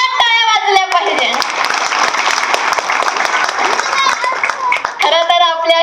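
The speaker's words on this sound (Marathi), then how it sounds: "आता एकदम जोरात टाळ्या वाजल्या पाहिजे." Loud, dense applause from an audience at a Dr. Babasaheb Ambedkar Jayanti awareness program, a sustained burst of clapping for the organizers lasting several seconds, with a speaker's voice before and after it.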